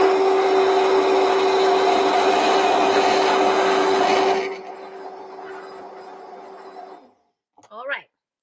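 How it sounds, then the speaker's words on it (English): A messy immersion blender whirs loudly and steadily while mixing matcha for boba, then cuts off and leaves a fading hum and a brief clatter at the end. "got my messy immersion blender here for you"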